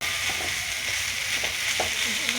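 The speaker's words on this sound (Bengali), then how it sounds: "এই সর্ষেটা দিয়ে এবার এটা নাড়াচাড়া সব সবজির মধ্যে এটা লাগিয়ে নিয়ে মানে মাখাচ্ছি।" Drumstick vegetables being stirred in a pan with mustard paste, giving a steady background sizzle with soft scraping strokes of the spatula at a close distance.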